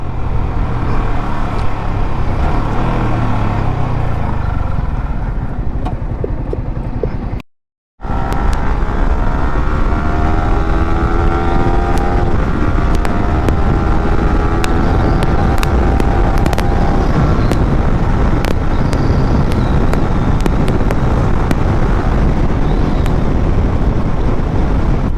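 A Yamaha R15 V4 motorcycle revs high on the road, with engine pitch climbing through gears via a quick shifter, a brief cut between shifts, all under heavy wind rush.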